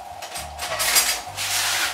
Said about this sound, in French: J'ai pris une cuillère en bois pour bien gratter à l'intérieur.